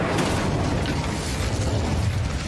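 A dense, roaring burst of fire from the Incendio spell in Hogwarts Legacy fills the moment, loud and continuous with a crackling, rushing texture and no speech over it.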